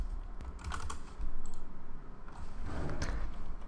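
Rapid typing on a computer keyboard, close and steady, with bursts of clicking keys and brief pauses.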